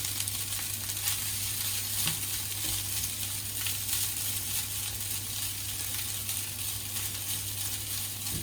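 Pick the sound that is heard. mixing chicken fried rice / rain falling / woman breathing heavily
mixing chicken fried rice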